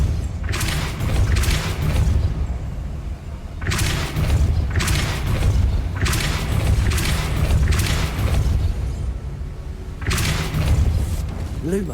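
Repeated Depulso spell blasts in Hogwarts Legacy boom in loud bursts roughly every two seconds, each a heavy thump with a bright crackling burst, over a continuous low rumble of game sound.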